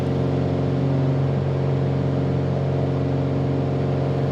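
Steady aircraft engine drone in Microsoft Flight Simulator during a climb past 3,000 feet, a loud continuous hum with a constant pitch and no pauses.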